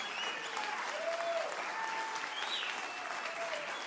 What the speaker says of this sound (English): Give him a very big God bless you clap.